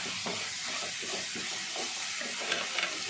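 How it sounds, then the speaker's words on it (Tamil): Ginger and garlic sautéing in oil for a baby corn gravy, a soft, even sizzle with a gentle rhythmic stirring pulse underneath and a couple of light knocks near the end. "இப்போ நம்ம எண்ணெயிலே போட்டு எல்லாமே நல்லா வதக்கிட்டோம் பாருங்கள்"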